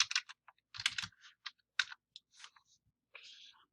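Keys tapped on a computer keyboard while typing a web search, in short close bursts of clicks with brief pauses between them.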